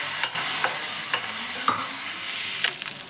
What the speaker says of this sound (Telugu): ఇప్పుడు మేము వెనిగర్ యాడ్ చేస్తున్నాము